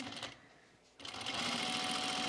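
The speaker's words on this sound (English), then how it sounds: "I'm gonna sew this" A sewing machine stitches a cropped jacket. A short burst of running is followed by a pause, then a steady, fast mechanical whir that continues to the end, close and clear.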